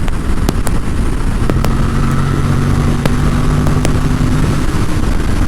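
An Aprilia RS457 motorcycle engine drones loudly and steadily under light throttle while riding, a constant close mechanical hum mixed with road and wind noise and a few sharp ticks.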